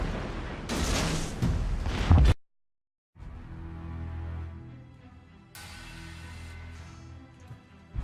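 A destroyer fires a naval gun salvo in a video game: a loud, broad burst of booming blasts for about two seconds, a sudden cutoff to silence, then a long low rumbling roar that swells again and trails off.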